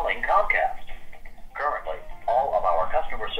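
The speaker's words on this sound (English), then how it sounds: "This is some of the worst jazz music I've ever heard." Jazz hold music plays down a telephone line during a call to an internet provider, thin and band-limited, with a continuous melody that rises and dips in loudness.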